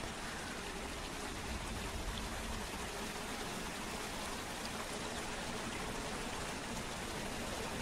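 Rushing water of the waterfall in Zwift's virtual Watopia cycling world, a steady broadband wash of falling, splashing water that stays constant and fairly loud throughout, with no voices.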